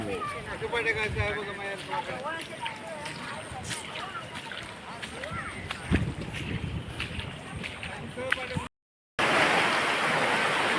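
Steady rushing of a river near Palasdari waterfall in Karjat, a broad wash of water noise running throughout, with people talking over it and a brief dropout near the end.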